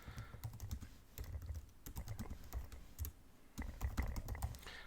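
Fingers tap a computer keyboard in quick, uneven bursts of soft clicks, heard close up in a quiet room with no talking.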